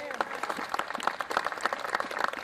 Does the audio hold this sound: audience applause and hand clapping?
yes